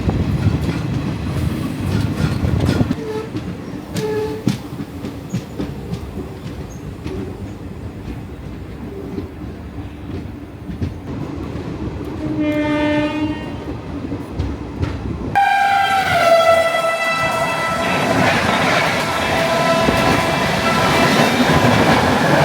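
A passenger train pulls out of Chittaranjan station, with rumbling carriages and clickety-clack building from nearby, a horn sounding midway, then louder, steadier rolling noise as it gathers speed.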